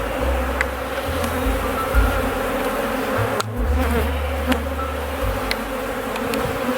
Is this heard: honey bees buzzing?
yes